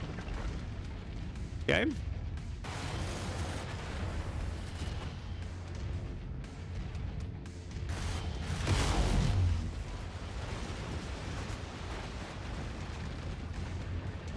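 Gunfire and explosions from the mech combat game MechWarrior 5: Mercenaries: a sharp blast, then a rolling boom later on, over a constant low mechanical rumble, with a voice talking across the action.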